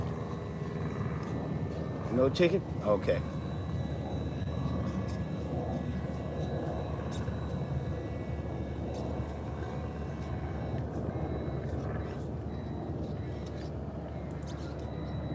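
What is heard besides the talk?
helicopter flying overhead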